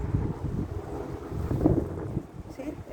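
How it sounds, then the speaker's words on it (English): Wind gusting across an outdoor garden, a low steady rumble of buffeting air on the microphone, rising briefly near the middle. "See, there's the wind."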